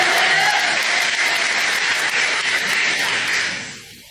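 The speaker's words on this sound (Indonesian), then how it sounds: "Jadi tepuk tangan dulu yang meriah buat kalian" A crowd at a live comedy show bursts into loud, dense applause that holds steady for a few seconds, then fades quickly.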